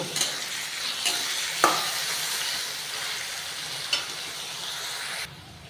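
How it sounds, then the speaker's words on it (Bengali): Carrots sizzle steadily in a hot pan while a utensil gives a few sharp scrapes and taps as it stirs. "একইভাবে গাজরগুলো সব ভেজে নেব"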